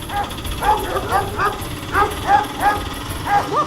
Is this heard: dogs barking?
yes